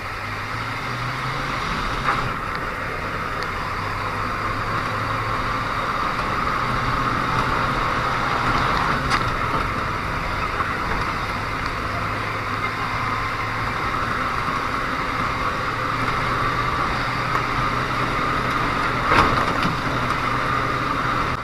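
A diesel Ford F250 pickup, older body style, accelerating hard on a bumpy road, heard from inside as a steady loud engine drone with a low rumble that climbs and shifts through gears for the whole stretch.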